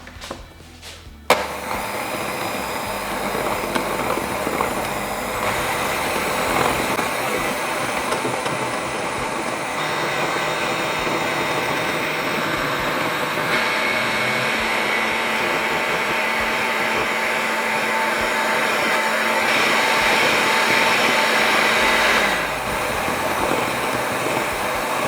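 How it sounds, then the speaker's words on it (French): An electric hand mixer whisks flan batter, a steady loud whirring hum that runs almost without a break for the whole stretch after a brief clatter at the start. "moi je vais prendre un batteur électrique."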